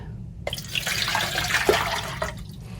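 Water poured from a tap into a measuring cup, a sudden start of bubbly trickling and splashing that runs steadily for about two seconds before tapering off, close and clear with no voices.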